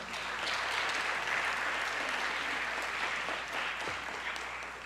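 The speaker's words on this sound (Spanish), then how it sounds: "Un aplauso, por favor." At a conference session, an audience applauds after a participant receives a certificate, a fairly soft but continuous wash of clapping that stays even and fades slightly at the end.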